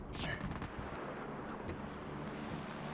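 Gunfire in a PUBG match, with a sharp nearby shot at the start followed by a dense rumbling wash of distant shots and explosions that lasts throughout.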